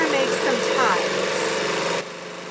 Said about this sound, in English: The serger's loud, so sorry.